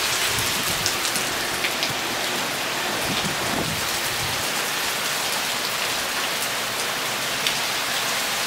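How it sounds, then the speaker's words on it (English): Heavy rain pours down in a steady, loud, unbroken roar, with wet wind-driven hiss filling the whole stretch and no one speaking. "Oh my gosh, look at that rain."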